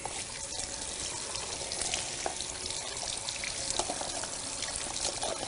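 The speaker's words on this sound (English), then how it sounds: "always ask your client first as soon as you put the water on." Tap water runs from a salon basin spray while rinsing a client's hair, a steady close hiss and splatter with no talking.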